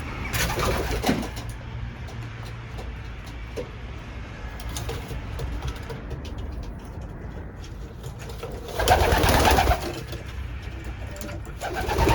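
Racing pigeons coo in a loft, soft low calls repeating over steady background noise, with a louder rustling burst near the end.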